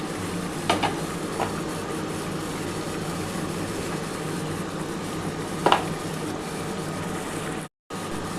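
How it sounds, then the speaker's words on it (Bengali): Lote fish being stirred with slit green chillies in a pan: a steady soft sizzle and scraping throughout, with a couple of brief louder clinks of the spatula against the pan, no talking. "এবার ভালো করে একটু কাঁচা লঙ্কাটার সাথেও নাড়াচাড়া করে নিতে হবে"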